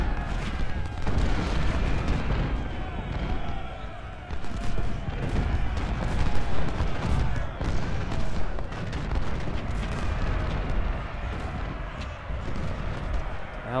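Cannon fire in Ultimate General: Civil War during the Battle of Shiloh, repeated booming artillery shots over continuous battle din, with a voice talking at times.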